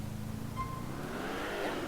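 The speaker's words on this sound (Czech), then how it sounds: "Slyším ten motor." A car engine revving and rising in pitch, fairly close, a brief steady mechanical drone.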